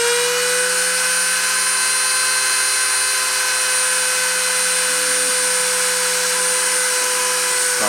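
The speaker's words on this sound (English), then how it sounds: "I'm going to turn the spindle on and start the deposition." A spindle runs during deposition printing onto aluminum oxide, a steady high-pitched mechanical whine with sustained tonal hum layers, continuous and loud throughout with no talking.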